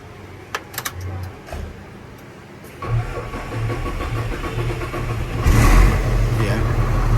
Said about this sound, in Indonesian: Jadi unit ini FM320 menggunakan mesin P11 yang sudah handal, mesinnya Hino, karena menggunakan Bosch-Pom ya,